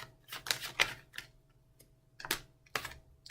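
Several quick, papery flicks and riffles of tarot cards being shuffled, in short bursts separated by brief pauses, close and fairly quiet.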